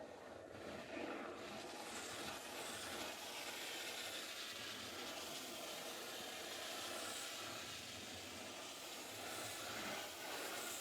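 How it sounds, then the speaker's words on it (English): Steady broadband hissing of a steam cleaner on Jensen Interceptor carpet mats runs continuously at close range, with faint rubbing and scrubbing textures underneath and no speech. "we're going to treat it with a steamer"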